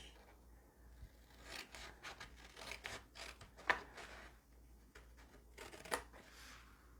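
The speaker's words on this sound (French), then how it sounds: "je vais couper tout simplement ici." Scissors cutting paper to make a gift bag, a series of quiet crisp snips and rustling strokes at close range, irregular and faint with no talking.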